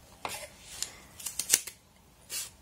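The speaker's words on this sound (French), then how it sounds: "dans du papier craft, je coupe 4 morceaux" Scissors snip through kraft paper in several quick, crisp cuts, close and fairly quiet, with short pauses between the strokes and no talking.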